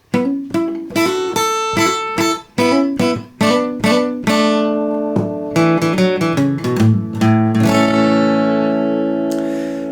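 A plucked acoustic guitar plays a lively introduction of strummed chords and picked notes, bright and close, ending on a ringing sustained chord.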